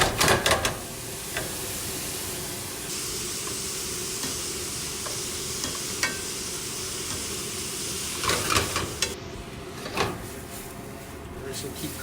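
Shrimp sizzle in butter in a pan, a steady frying hiss running throughout, with stirring clatter and scrapes near the start and again near the end.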